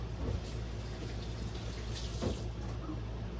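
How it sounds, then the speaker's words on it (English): Hands are rinsed under a running kitchen tap, a steady, close rush of water that continues throughout with slight splashing changes. "Give me a second to rinse my hands off."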